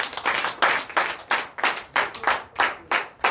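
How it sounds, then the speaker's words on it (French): A church congregation claps in a rhythmic, evenly spaced beat during a deliverance and prophecy night service, the loud, close-up claps repeating about three times per second with no talk over them. "Donnez l'acclamation à Jésus."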